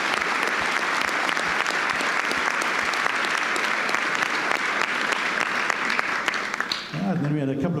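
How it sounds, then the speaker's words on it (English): Graduating students at a school valedictory ceremony receive a big round of applause, a dense and steady crowd clapping that fills the room for several seconds before a voice begins speaking at the end. "I think we can give them a big round of applause."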